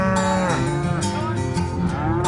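Cattle low repeatedly and loudly during a drive across open range, several overlapping moos forming a continuous near chorus with no talk.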